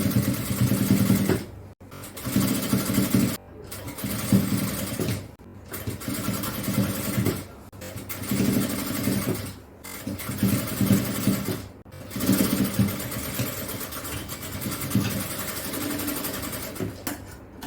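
Puff shorts are stitched on a sewing machine in repeated runs of about two seconds of steady motor whirring, each separated by brief pauses, loud and close with no talking.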